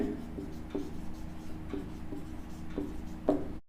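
Chalk or marker taps and scratches across a board in a few short, regular strokes, close and clear over a faint room hum, during a maths lesson on sets.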